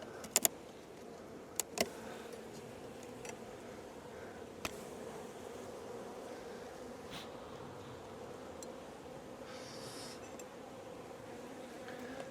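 Honeybees hum steadily around an open beehive, a continuous close buzz with a few sharp clicks and knocks from the hive frames scattered through it.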